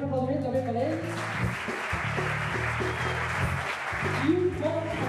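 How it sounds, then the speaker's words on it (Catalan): Sustained clapping from a concert audience runs underneath, broad and even, while a voice speaks over it through most of the stretch. "un gran aplaudiment també per ells"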